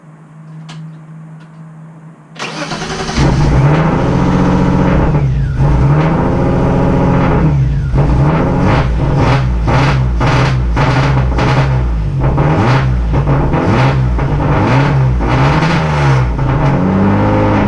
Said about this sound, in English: we're going to see if this thing starts real quick and see how it idles and everything with the new chip without the MAF